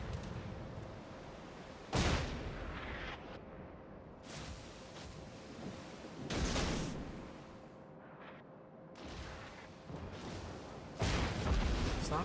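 Naval gunfire and shell hits strike a Mahan destroyer in World of Warships, a series of loud booming impacts spaced a few seconds apart over a steady engine rumble, with no talking.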